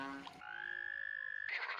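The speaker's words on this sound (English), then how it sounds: "all of those frogs were basically saying, "F me,"" A played recording of frogs croaking: a sustained buzzing trill between short bursts of rougher croaks, clear and fairly close.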